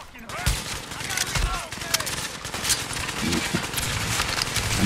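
Rifle fire in The Division during a hard solo Madison Field Hospital mission: sharp loud shots come in quick bursts and single cracks over steady combat noise.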